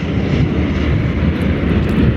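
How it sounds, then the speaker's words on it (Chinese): An airliner at Guangzhou roars steadily as it accelerates down the runway for takeoff, a dense, loud, broad engine rumble that holds constant throughout, with no talk. "持续给油，持续加速。 44米的长度，目前正在助跑起飞。"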